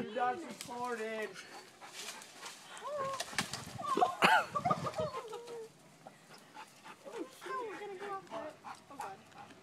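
A dog stuck up in a tree pants and whimpers in high, wavering whines amid excited human voices talking nearby, with an outdoor backdrop.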